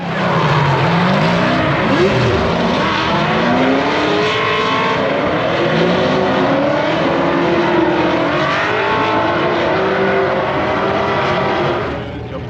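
A drift car's engine revs hard and continuously with tires squealing through turns during practice laps, the loud roar rising and falling as it circles nearby.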